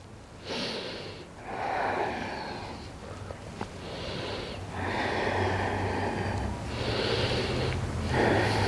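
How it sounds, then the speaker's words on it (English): Steady, audible breathing during a power yoga core and flexibility session, with repeated inhale and exhale cycles at an even pace, each lasting about a second or two, heard close and continuous over soft background noise. "Keep breathing."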